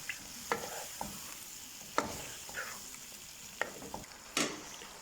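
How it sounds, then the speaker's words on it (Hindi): Chicken and masala sautéing in a pot for aloo chicken, with soft sizzling under repeated sharp scrapes and knocks of a spoon against the pot, spaced irregularly and heard up close without talk. "अब आपने इसको अच्छी तरह भूनना है मसाले को।"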